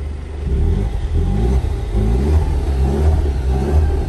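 A petrol car engine revs loudly and continuously nearby, its deep rumbling note rising and falling over about four seconds, with no talk.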